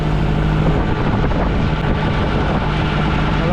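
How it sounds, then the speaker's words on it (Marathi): Strong wind buffets a fishing boat heading home from deep-sea fishing for small shrimp, with waves splashing aboard; a loud, steady roar of wind and engine fills the whole stretch, close and unbroken. "घरी जाताना वारा वाढलेला आहे लाटा डायरेक्ट बोटीमध्ये उडतात"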